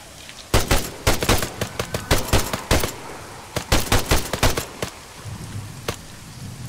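Rapid bursts of automatic gunfire from ARMA 3 zombie-apocalypse combat, sharp repeated volleys firing in quick clusters then pausing briefly, loud and close throughout with a low rumbling background.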